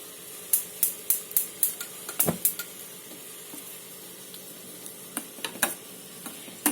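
Sweet pongal pal payasam flavoured with cardamom powder simmers in a pot on the stove, giving a soft steady hiss broken by a run of sharp clicks and taps, close and fairly quiet, with no talk.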